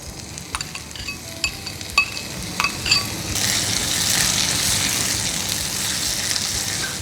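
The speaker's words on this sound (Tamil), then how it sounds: "இப்போ நம்ம தக்காளியை போட்டுடலாம்" Tomatoes drop onto golden-brown fried onions for vegetable korma; a few metallic clinks of a spoon come first, then a loud, dense sizzle rises and holds steady up close.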